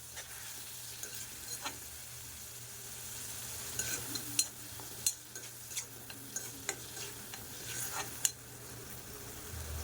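Drumstick curry masala frying in oil while a spoon stirs it, a steady low sizzle punctuated by scattered scraping clicks against the pan, close and fairly quiet with no voices.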